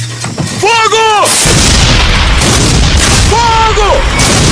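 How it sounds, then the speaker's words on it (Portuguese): An American Civil War artillery barrage at Gettysburg, with Confederate and Union cannons firing in heavy, rolling, loud booms. Voices shout commands over the continuous roar. "Era a maior barragem de artilharia da história do hemisfério ocidental"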